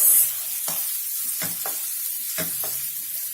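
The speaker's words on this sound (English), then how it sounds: "And then goes in our diced potatoes. We give all of this a good mix" Diced potatoes and chilies tossed in hot oil in a frying pan, a steady hiss punctuated by four or five distinct scraping strokes of the spoon.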